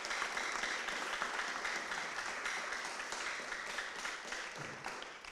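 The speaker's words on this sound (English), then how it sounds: "I know you guys, you can clap for them because I know you love them." A church congregation at a Napa Methodist service claps for two musicians, giving a broad, even wave of applause from many hands that is fairly soft and slowly fades toward the end.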